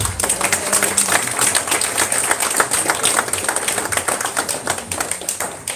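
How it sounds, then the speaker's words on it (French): A church congregation applauding for Jesus during a service, a dense continuous clapping that holds steady for several seconds with no voices over it. "Applaudissez Jésus."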